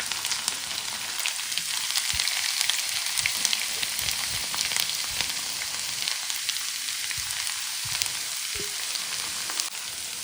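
A quarter kilo of garlic fries in well-heated oil for a mixed vegetable pickle, giving a steady, dense sizzle that holds evenly throughout with no talking.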